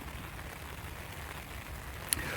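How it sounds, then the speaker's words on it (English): Heavy rain pours down steadily at a house building site, a dense hiss of drops on surfaces with one brief sharp tap near the end, no voices. "they come back today and it chucks it down with rain"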